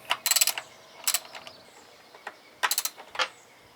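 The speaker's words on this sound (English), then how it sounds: "So now we're going to mount this bracket back up, and again it's held on with 3 T40 bolts." Ratchet wrench tightening T40 bolts on a BMW M52/M54 PCV bracket, heard as several short bursts of quick metallic clicking with pauses between them, close and fairly quiet.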